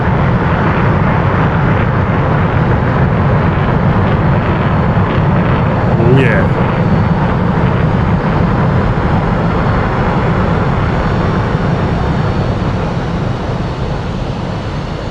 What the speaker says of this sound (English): Let's just press our left engine start button, take our throttle out of cut up into idle